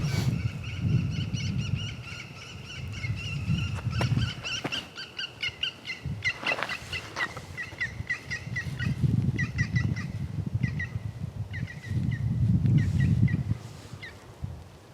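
Birds call in Sherwood Forest on a morning outing, repeated chirps and calls scattered through the clip over low wind rumble, moderately close.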